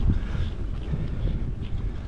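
Wind buffets the microphone during an uphill mountain bike ride from Muhlbach to La Rothlach, a steady, close, low rumbling roar with small gusty surges throughout and no voices.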